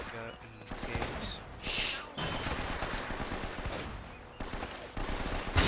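A mounted gun fires in rapid bursts in Uncharted: Drake's Fortune, the fusillade loud and continuous with brief gaps, amid other game sounds.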